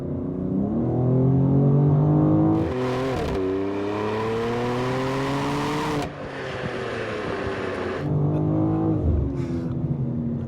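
A 2026 BMW M2 CS with a Turner valved catback exhaust and its valves open, heard from the cabin under wide-open throttle. It gives a loud, rising engine roar through several upshifts, each marked by a brief drop before it climbs again.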